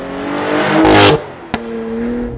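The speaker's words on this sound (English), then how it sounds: "you can get a really cool shift sound when you ping it off the red line from first to second and shift late" A 2020 Cadillac CT5-V engine revving hard to redline in first gear, then a sharp shift into second with a sudden drop in pitch and a brief pop, followed by steady engine drone; loud and close, no talk.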